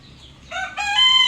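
A rooster on a farm gives a short, loud crow with bright harmonics that rises over a faint background of clucking hens, close by and without talk.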